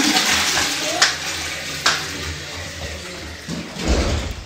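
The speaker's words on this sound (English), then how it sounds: "Okay, flush tayo." A toilet flushing in a spacious bathroom at a beach and country club resort, a steady rushing water wash with a couple of sharp clunks, close and fairly loud, with faint voices in the background.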